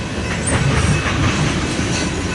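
A BNSF freight train rolls past in Fremont, Nebraska, its wheels clacking and squealing in a steady, close, loud rumble that continues without pause.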